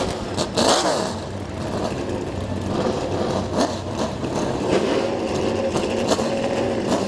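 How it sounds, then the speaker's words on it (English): Late model race cars at a speedway start and rev their engines together, a dense, steady roar of mid-pitched engine noise with rising and falling revs, no talk over it. "drivers, start your engines"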